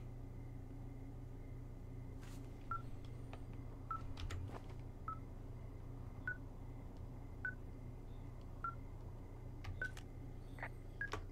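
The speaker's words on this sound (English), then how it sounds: "This receiver just picked something up. Like a signal? It's going beep, beep." Radio receiver in Firewatch emitting a regular series of faint, short electronic beeps at roughly one-second intervals over a low steady rumble of background ambience.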